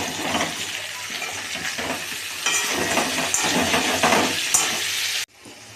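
Chopped tomatoes hit a pan of frying vegetables with a loud, constant sizzle and hiss. A few brighter stirring scrapes and clinks rise above it before the sound cuts off abruptly near the end.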